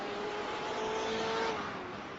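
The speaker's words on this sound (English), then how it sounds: "Listen to that distinctive sound of the BMW" Twin-turbo V8 of a BMW M8 race car in orange team livery, a sustained engine drone with a steady tonal whine, slightly rising then easing off, heard from on board with no talk.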